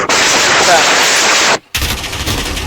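Rapid MP5 gunfire rattles in Call of Duty, a loud dense burst lasting over a second, a short silence, then more noisy game action, with a voice speaking.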